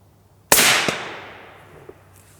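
A single sharp rifle shot, fired at targets, cracks loudly and then trails off in a long decaying echo, followed by a faint small thump, with no voices.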